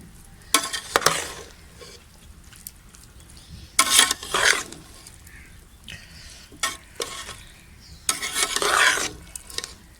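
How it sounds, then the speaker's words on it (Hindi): A spatula stirs cooked rice in a hot frying pan for chicken fried rice, giving loud scraping bursts in uneven strokes over a steady low sizzle, with no talking. "ये चावल हम इसमें हमने डाल लिए थे। अब हम इस तरह मिक्स कर लेंगे।"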